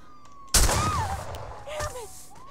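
A single gunshot fired in the Friday the 13th video game lobby cracks out loud and near, followed by a brief tail and fainter whistling tones.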